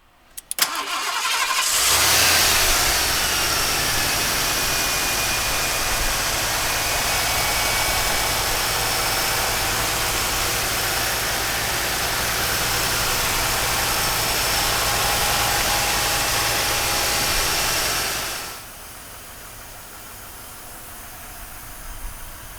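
A 1989 Lincoln Town Car engine cranks and catches, then settles into a steady, loud idle with a constant hiss. It runs for about fifteen seconds before the level drops sharply near the end.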